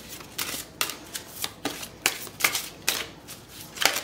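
Oracle cards being shuffled by hand for a tarot reading: a run of crisp, papery riffling bursts in an irregular rhythm, close and moderately loud, with no voices.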